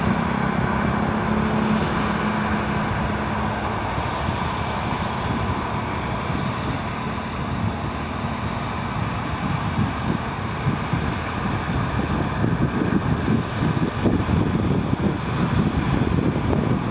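A TAP Air Portugal airliner's engines at Lisbon airport give a steady, loud, broadband roar mixed with wind buffeting on the microphone, continuous throughout with no voices.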